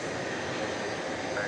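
A 20-year-old UPS Airbus A300 cargo jet at night at Dallas–Fort Worth gives a brief, steady jet engine roar at moderate distance.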